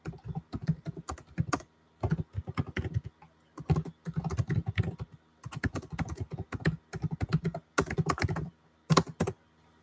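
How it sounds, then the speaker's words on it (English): Bursts of fast typing on a computer keyboard, clattering keys in quick runs separated by short pauses, close and clear with no talking. "Just typing something."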